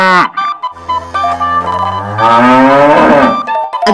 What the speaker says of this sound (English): A cow makes a moo sound.